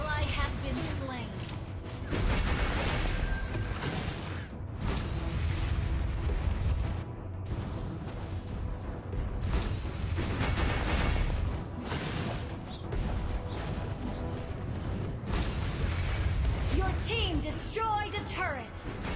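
Heavy artillery-like explosions and booming fire in a video game battle as a turret is destroyed, continuous loud blasts layered with game announcer voice and effects.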